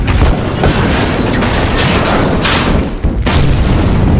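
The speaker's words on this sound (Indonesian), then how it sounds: "membuat helikopter kehilangan kendali lalu jatuh dan meledak." A helicopter crashes and explodes in a film scene about rebellious lab-bred apes, heard as a loud, dense roar of blasts and rumbling debris that fills the whole stretch with only brief dips.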